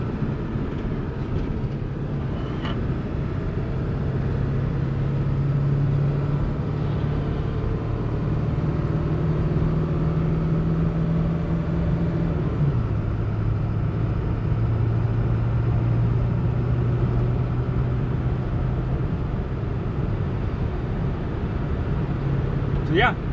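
A 2001 Ford Excursion Limited 4WD with a 7.3L Powerstroke diesel pulls out and accelerates, a steady low engine drone and road rumble rising in pitch through a gear change, loud and continuous throughout.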